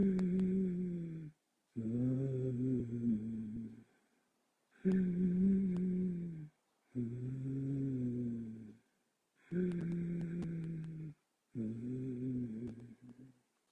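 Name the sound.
Ujjayi pranayama breathing with constricted larynx, ocean-like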